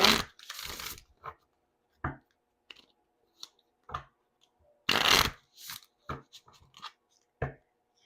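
Romance Angels oracle cards by Doreen Virtue being shuffled by hand: two longer riffling bursts and a string of short card taps and slides, close and fairly quiet, with no talking.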